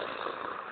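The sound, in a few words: vocal sound effect imitating an atomic explosion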